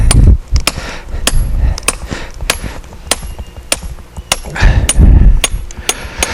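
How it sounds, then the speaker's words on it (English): Steel hammer striking a chisel into quarry rock, a dozen or so sharp ringing blows at a steady rhythm, close and loud over low rumbling handling noise. "So I'll be quiet and get back to hammering"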